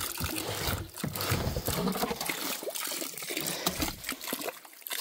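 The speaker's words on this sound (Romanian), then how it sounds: "De aici îmi vine mie apă." Murky water runs from a pipe into a plastic container, a close, busy splashing trickle with no talk over it.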